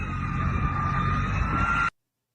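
A Russian T-14 Armata tank engine runs as a loud, steady mechanical drone with a thin, high whine, holding constant for about two seconds before cutting off abruptly.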